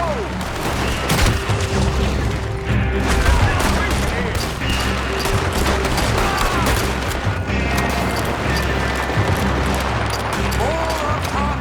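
A Red Dead Redemption shootout in a video game: dense rapid gunfire and booming shots crackle continuously at high volume, with voices shouting beneath the battle.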